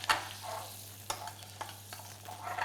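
Butter sizzling in a hot frying pan, a soft crackling hiss with a few sharp clicks and spits from the pan, close by and fairly quiet, with a steady low hum underneath and no talking.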